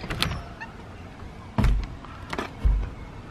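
A rundown garage door being tried and refusing to open, with a few loud metallic clunks and rattles as it is yanked, spaced apart and close.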